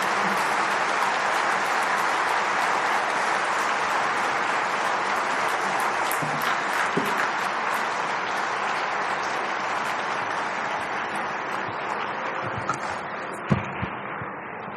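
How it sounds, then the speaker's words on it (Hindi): Sustained crowd applause fills a large ceremony hall as a dignitary walks up to the stage at an inaugural session, steady and dense throughout before thinning slightly near the end. "तालियां बजती रहें जब तक आप मंच पर आए।"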